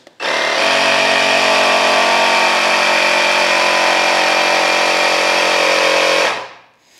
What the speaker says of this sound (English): So I'm going to go ahead and turn on this air pump.